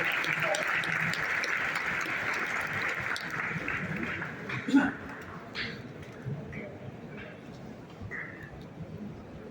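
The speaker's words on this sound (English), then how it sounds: "Please give him a big round of applause to come and share his valuable words." Applause from an audience at an engineering college orientation program greets the principal, a steady patter of clapping that thins and fades out, followed by a few scattered sounds.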